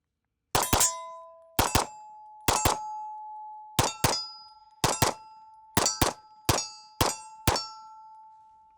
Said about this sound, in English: let's get to some more shooting here